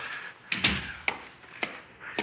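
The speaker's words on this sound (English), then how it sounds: "Baosheng, close the door" A door closing as a radio drama sound effect in a Vietnam-era story, heard as a few soft thuds and a latch click spread over two seconds, fairly close, with no voices over them.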